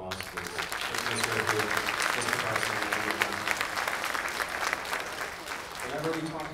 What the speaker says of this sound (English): So give them another round of applause, please.